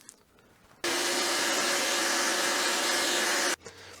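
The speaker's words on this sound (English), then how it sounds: "we'll probably want to vacuum out the inside as well." A vacuum cleaner sucking dust out of an Amcrest surveillance recorder: a loud, steady hissing whoosh that switches on abruptly, runs for about three seconds and cuts off cleanly, with quiet room tone on either side.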